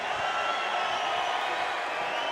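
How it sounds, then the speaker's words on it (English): An arena crowd roars and cheers for Conor McGregor at the 3 Arena during a BAMMA 35 MMA event, a steady dense wash of voices filling the hall without break. "you could hear the crowd's response there to one of their own, Conor McGregor"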